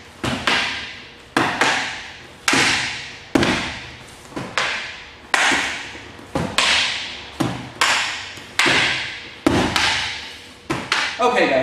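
Sword and shield clash in a back-and-forth attack-and-defend drill, a steady series of sharp, loud impacts roughly once a second, each ringing briefly before the next strike.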